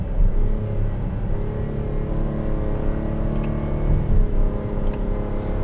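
A 2021 Buick Enclave Avenir's engine hums steadily from inside the cabin, a low continuous drone with slight swells as it pulls through close-spaced gears, no voices over it.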